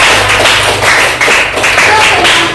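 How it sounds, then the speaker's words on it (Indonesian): Classmates in a school classroom clap for a student, a loud, close burst of uneven clapping with a few sharper slaps, lasting a couple of seconds. "Oke, tepuk tangan untuk Aditya"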